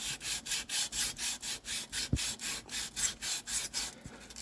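Aluminum foil rubbed back and forth over rusty chrome, a rhythmic scraping stroke roughly three times a second, close and steady, with no voices.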